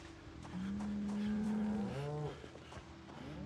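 A cow in the video game Project Zomboid moos loudly in one long, drawn-out call that rises and falls, with a low rumble of background noise and no talking.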